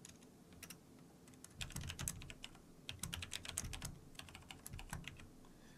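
Typing on a computer keyboard, a quiet flurry of irregular key clicks in short bursts, starting sparse and growing denser, with a low background hum and no speech.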